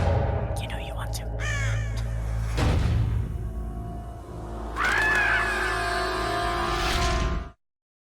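A crow caws in the Metal Gear Solid video game, heard as a few harsh calls over a loud, steady background of game music and ambience, with a thud partway through.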